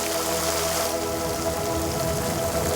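Rain falls steadily on a surface, a dense, even patter that stays at the same level throughout, with no voices present.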